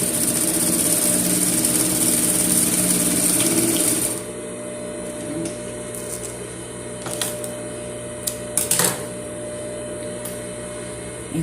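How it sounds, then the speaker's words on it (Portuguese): A sewing machine stitches a necessaire (cosmetic pouch) with a fast, steady whirring hum for about four seconds, then stops, leaving a quiet room broken by a few small handling clicks and taps. "Tô terminando aqui de costurar."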